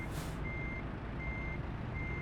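A truck in American Truck Simulator sounds its reversing alarm, three evenly spaced steady beeps over a low rumbling engine drone.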